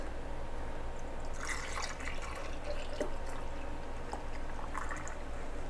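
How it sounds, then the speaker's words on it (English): Elderberry syrup is poured into jars, a soft continuous liquid trickle with faint drips and glassy splashes, close and quiet over a low background hum. "I'm going to pour up to about the 1/2 inch mark, leaving some head space."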